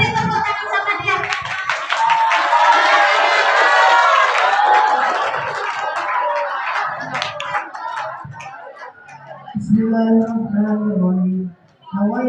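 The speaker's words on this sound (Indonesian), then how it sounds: "Beri tepuk tangan sama dia." Seventh-grade students at a junior high school in Bandar Lampung break into loud, dense clapping and cheering that fades after several seconds, followed by scattered voices and a few further claps.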